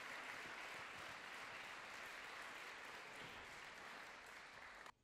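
Sustained applause from an audience at a Polish Independence Day anniversary ceremony in Lipusz as award recipients are called up, dense and steady throughout before cutting off abruptly at the end.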